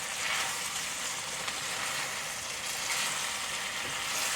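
Okra and yellow squash fry on high heat in one crowded batch, giving a steady, dense sizzle that runs unbroken at a close, even level with no talking.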